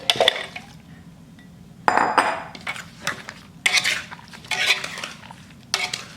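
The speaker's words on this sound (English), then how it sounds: "Coat the peaches, make sure everything's mixed in well." Drained canned peaches are stirred and coated in a peach cobbler mixture, making bursts of utensil clinks and scrapes against a bowl with soft wet stirring, close and fairly loud, separated by brief pauses.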